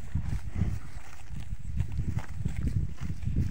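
A herd of buffalo walks out to graze, their hooves striking the ground in a steady uneven rhythm of soft, low thuds, close by and continuous.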